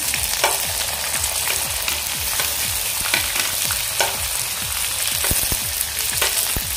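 Onion frying in a hot pan for vangyache bharit, a loud continuous crackling sizzle with rapid popping spatters throughout, close up and with no talking.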